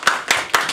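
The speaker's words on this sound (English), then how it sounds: "Let's give him a round of applause." Audience applause after a persuasive speech at a Christian university: a few bursts of clapping in quick succession, fairly close, with no talk over it.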